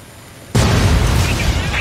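A sudden loud blast from the video game Fallout 3 bursts in after a quiet stretch, then rolls on as a dense, sustained rumble.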